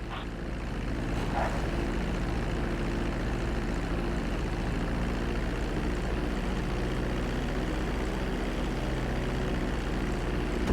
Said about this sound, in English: Start to decelerate while you're still in the air, but be careful not to stall the engines.